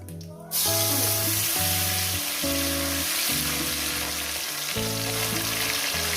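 Chopped tomato drops into hot oil with cumin in a pan and fries with a loud, steady sizzle, accompanied by a tonal hum running throughout; no one speaks.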